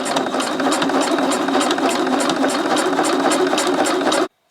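A sewing machine running steadily while top stitching, with a fast even needle rhythm and motor hum, close and loud for about four seconds before it stops abruptly.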